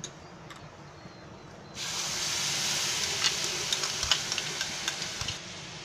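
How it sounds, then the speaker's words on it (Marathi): Tomato paste hitting a hot pan with garlic and chili for cauliflower tava bhaji: quiet at first, then a sudden loud burst of sizzling hiss that carries on, with a few sharp crackles and pops near the end. "आता मी ह्याच्यामध्ये टोमॅटोची पेस्ट टाकते।"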